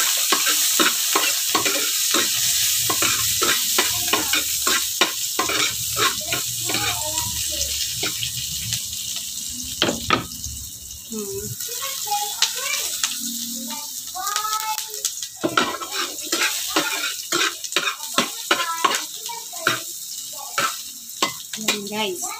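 Onion and garlic sauté in a hot frying pan for a dry fish and tomato dish, sizzling steadily with frequent scraping and stirring clatter from a utensil against the pan throughout.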